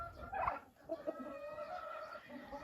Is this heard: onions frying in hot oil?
no